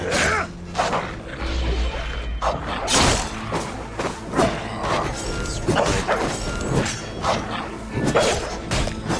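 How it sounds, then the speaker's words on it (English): Hyenas snarl and yelp amid heavy thuds and whacks of combat in Assassin's Creed Origins, a busy close-up brawl with repeated impacts, growls and a faint voice now and then. "Survive these hyenas."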